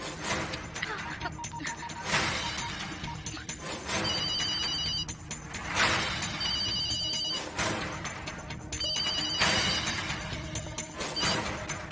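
A telephone ringtone rings in repeated bursts, loud and close, with some talking mixed in underneath.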